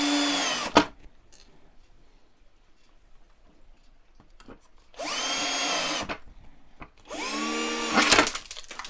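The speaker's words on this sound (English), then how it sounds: "I'm going to use my power tool again and get every screw into position" Bursts from a power tool driving screws into the base of a Doctor Who Dalek model: three loud whirring runs, close up, separated by quiet pauses with small clicks and handling noises.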